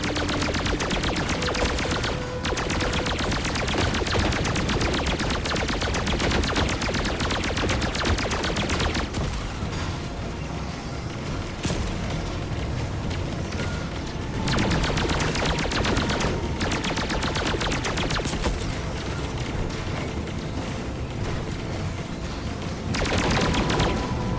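Gunfire in the Nintendo 64-style flight combat game Sky Dog 64, dense bursts of rapid shots and booms running almost continuously with a few brief lulls.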